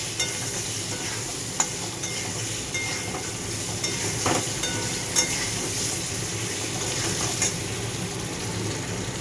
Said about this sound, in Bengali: হলুদ নুনটা দিয়ে একটু বেশ নাড়াচাড়া করে একটু চাপা দিয়ে দেবো